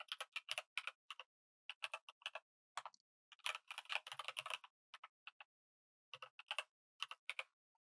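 Someone types steadily on a computer keyboard, quick clustered keystrokes with brief pauses between bursts, close and quiet, with no talking.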